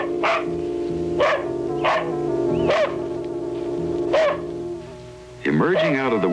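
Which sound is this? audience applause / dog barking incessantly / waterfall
dog barking incessantly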